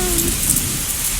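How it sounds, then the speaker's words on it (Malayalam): Heavy evening rain pours down in a dense, continuous hiss of drops on surfaces, loud and close with no breaks and no talking. "നല്ല മഴ."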